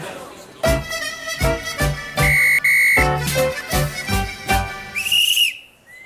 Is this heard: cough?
no